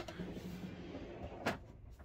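A kitchen drawer in a Sunlight I 68 Adventure Edition camper van sliding open, a soft rolling rumble ending in a short sharp knock, close and fairly quiet.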